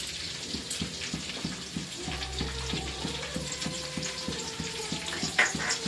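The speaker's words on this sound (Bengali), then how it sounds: "তো এই যে এলাচি, তারপরে হচ্ছে লং, দারচিনি কয়েকটা দিয়ে দিলাম তেলের মধ্যে।" Cardamom, cloves and cinnamon frying in oil in a home kitchen, giving a close, steady sizzle with light crackles, under a repeating low tonal background hum, with no speech.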